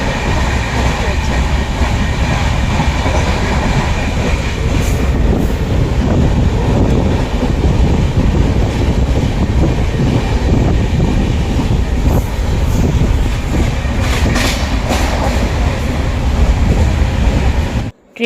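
Steady rumble and rattle of a running train heard from inside a passenger car, continuous and fairly loud with wind buffeting, cutting off abruptly at the end.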